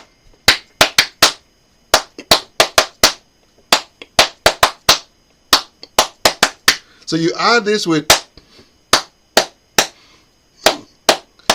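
Adowa hand clapping rings out as sharp, close, dry claps in interlocking irregular groups, forming a polyrhythm, with a brief spoken phrase cutting in midway before the clapping resumes.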